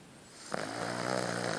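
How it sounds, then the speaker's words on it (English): A small dog snores loudly, a rough, droning breath with a sharp snort near the start, continuing steadily and close by. "Can you believe a small dog can snore so incredibly loud?"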